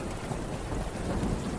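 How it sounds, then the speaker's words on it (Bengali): Heavy rain pours steadily at night with deep rolling thunder rumbling underneath, a dense, continuous wash of close downpour with no voices. "বজ্রের গর্জন এবং ঝুপঝুপ করে বৃষ্টি পড়ার শব্দ"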